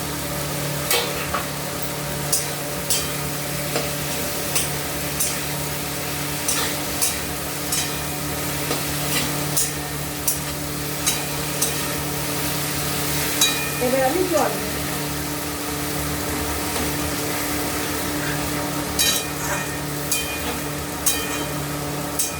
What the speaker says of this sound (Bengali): আলু ফুলকপি ভেজে রেখেছিলাম দিয়ে দিলাম